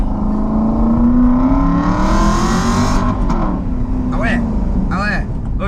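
Aston Martin V8 Vantage engine revving loudly and close, its tone rising and then dropping back, with a steady rumble running underneath throughout.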